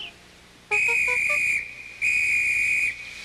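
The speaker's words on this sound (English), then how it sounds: "The conductor blew his whistle till he had no more breath" A conductor's railway whistle gives two long, loud, steady shrill blasts with a brief gap between them, heard alone and close after a short run of soft rising tones.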